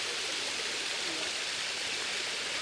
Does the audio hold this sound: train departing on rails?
no